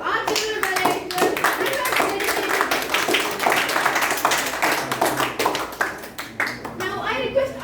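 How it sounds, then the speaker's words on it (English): Clapping hands from an audience at a youth leadership meeting, applauding the child evaluators, with sharp dense claps throughout and voices and chatter mixed in. "Please give a huge round of applause to our children evaluators."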